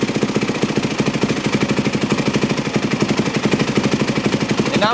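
A four-stroke dirt bike engine idles close by with a rapid, even putter of regular pulses throughout, after a fuel screw adjustment.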